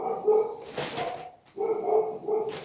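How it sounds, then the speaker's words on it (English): Dogs bark at a home in Europe in two rapid bursts of loud, close yaps, separated by a brief pause, with no talking. "Dogs are going nuts."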